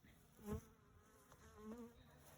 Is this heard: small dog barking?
no